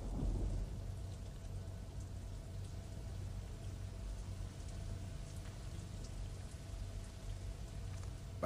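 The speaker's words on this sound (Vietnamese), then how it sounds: "Sấm sét từ phía xa." Steady heavy monsoon rain pours down with a low, distant rumble of thunder underneath, continuous and even throughout.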